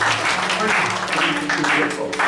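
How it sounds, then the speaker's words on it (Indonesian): A church congregation at a Pentecostal Sunday service claps for God, a full, sustained round of applause with voices mingled in. "Berikan tepuk tangan yang meriah bagi Tuhan kita."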